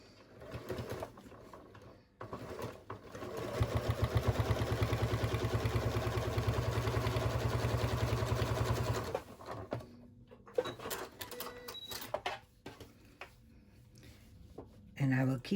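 Domestic sewing machine quilting lines through the layers of a round rice bag, a fast continuous mechanical whir running steadily for several seconds in sped-up motion, with quieter handling noises and short bursts before and after.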